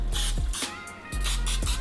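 Cooking spray hisses onto a bread pan in two short bursts, close and fairly loud, with no talking over it.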